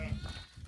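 A goat bleats in a short, close call over background noise outdoors on a farm, with a brief burst of voiced energy at the start.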